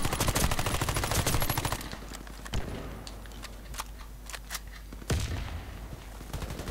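Gunfire in the video game Warface on a forest map, a dense rapid automatic burst at first, then scattered single shots and short bursts, loud and close, with no talking.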